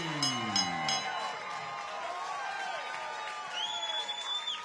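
A boxing arena crowd cheers a freshly crowned unanimous-decision winner, a steady roar of voices with scattered whoops and shouts that swells again near the end.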